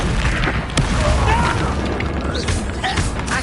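Incendio fire spell bursting in Hogwarts Legacy, with a few booming, crackling impacts amid a dense, noisy battle soundscape.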